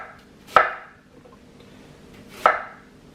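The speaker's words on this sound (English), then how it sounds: "we're going to cut our onion" A knife chops through an onion on a cutting board in a home kitchen, two distinct sharp cuts spaced about two seconds apart, close and fairly loud, with no talking.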